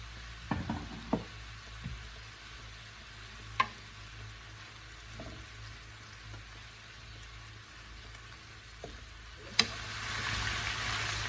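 Salt and chili flakes sizzle in a pan during a quick sauté of collard greens and kale, a steady soft hiss broken by a few sharp ticks and knocks of stirring, with no talking.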